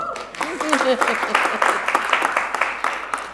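Audience applause at a symposium session on global equality standards, a scattered patter of clapping that builds and carries on under a voice speaking over it.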